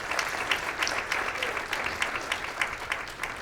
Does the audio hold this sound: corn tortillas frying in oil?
no